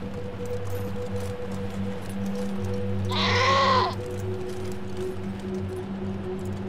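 A mountain goat in the video game Wasteland 3 lets out a single loud, wavering bleat lasting under a second, heard over a steady low ambient hum and background game music.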